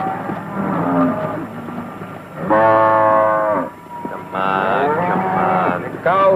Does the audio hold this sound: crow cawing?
no